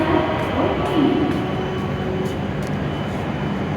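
A Hokuriku Shinkansen train arrives at a platform in Kanazawa station, a steady, fairly loud rumble and rolling hum of the approaching train with faint station voice sounds mixed in.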